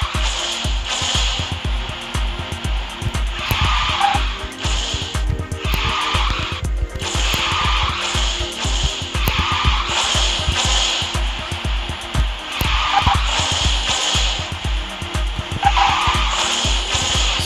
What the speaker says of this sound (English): It's very heavy to drift.